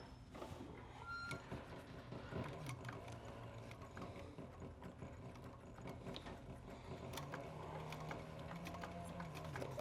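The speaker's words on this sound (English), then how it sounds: "now I'm gonna sew this down" A sewing machine stitches a leather dopp kit in a steady rapid mechanical whir with clicking needle strokes, continuous and close, with no talk.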